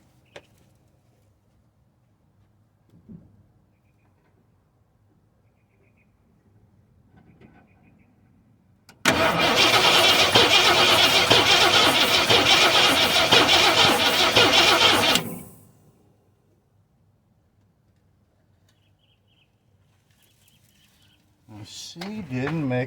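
A 1973 Ford F-250 truck engine cranks without firing: after quiet faint rustling, a loud, harsh, steady starter grind runs for about six seconds then cuts off, followed by quiet and a brief rising noise at the end.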